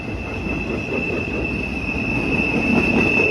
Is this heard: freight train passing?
yes